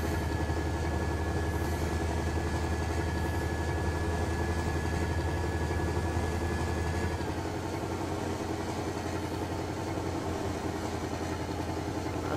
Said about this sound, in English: the mod for the Scania engine was just Scania sounds